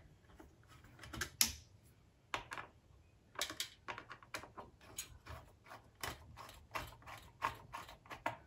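Screws being tightened during a processor replacement give a run of small clicking, ratcheting mechanical sounds. The clicks come close up, in irregular bursts, with no talking.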